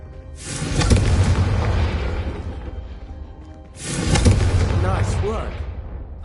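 Two heavy fiery blasts in the Hogwarts Legacy video game, a Confringo fire spell striking candelabras, each a loud booming burst with a crackling tail, the second followed by faint voices.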